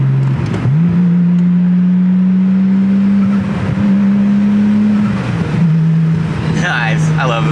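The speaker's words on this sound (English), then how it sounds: "We got the exhaust and the turbo noise going now." A turbocharged R32 Nissan Skyline GTS-T engine drones loudly at a steady pitch with exhaust and turbo noise, rising briefly and dropping back, with a voice speaking over it near the end.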